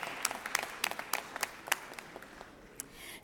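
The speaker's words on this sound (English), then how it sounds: "Let's give him a round of applause" A few people applaud in the Senate chamber, sparse and distinct claps ringing out close by and fairly softly, tapering off after a couple of seconds.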